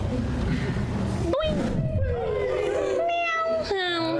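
A cat meows in a podcast studio, several drawn-out, rising and falling meows, close and fairly loud, over a background of people talking.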